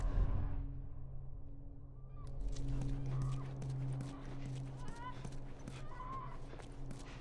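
Horse hooves clip-clop steadily in the video game The Last of Us Remastered, over a low ambient hum with soft game background sounds, fairly close and moderate in level.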